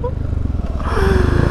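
Motorcycle fitted with a Remus exhaust and dB killer, a loud rattling, clattering engine note that rises and grows fuller midway through, close by with a voice shouting over it.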